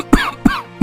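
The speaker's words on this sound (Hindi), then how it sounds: "बड़ी जोर की खांसी होती है" In a cartoon, a man coughs hard three times in quick succession, loud and close, each bark short and sharp.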